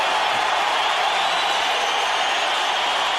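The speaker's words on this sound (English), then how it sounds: "And now the crowd's more excited than ever." Boxing arena crowd roaring in a sustained, dense wash of cheering and noise, loud and steady throughout without clear pauses.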